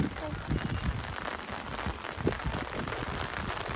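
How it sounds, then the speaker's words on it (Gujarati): Light rain shower falling outdoors, a steady dense patter of drops on surfaces, fairly close and continuous, with a voice murmuring faintly underneath. "લ્યો હવે થોડો વરસાદ આવીને જતો રહ્યો"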